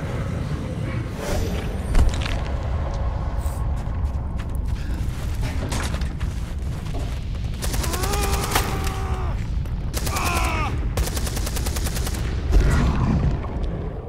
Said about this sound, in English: they were shooting at people out the window